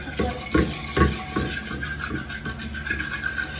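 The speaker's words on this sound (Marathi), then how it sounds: "आता डाळ मी घोटून झाली आहे" Cooked dal (lentils) being mashed in a pot, heard as a series of soft, rhythmic thumping and scraping strokes about every half second, fairly close, with steady kitchen hum behind and no talking.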